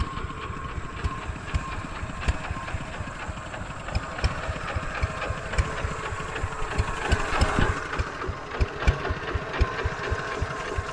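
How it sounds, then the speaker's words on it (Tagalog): Engine idling steadily with a rapid, even mechanical knocking pulse, close and fairly loud, after watering work on a farm, with no voices over it. "Papatay muna tayo ng makina."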